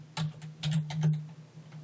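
A computer keyboard types a Linux terminal command in a short, quiet burst of close keystrokes over a steady low hum.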